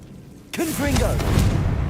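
A fiery Confringo blast spell from the game Hogwarts Legacy bursts in with a sudden broadband boom, then rumbles on loud and sustained while a voice shouts over it.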